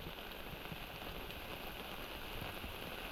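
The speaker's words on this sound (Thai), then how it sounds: "ตอนนี้ฝนตก" Rain falls in a steady, faint wash of hiss and small patters. The sound holds evenly throughout, with no talk and no distinct single drops.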